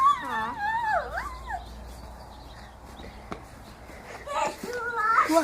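A dog whimpers and yips in rising, wavering whines, first in a burst of several and then again near the end, close by, with people's voices mixed in.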